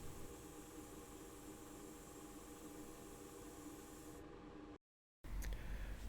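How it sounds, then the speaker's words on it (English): Clear varnish sprayed from a can onto a restored Matchbox diecast fire engine model, a close, steady airy hiss that cuts off briefly, then comes back. "This works a lot better and it sprays on very nice and evenly."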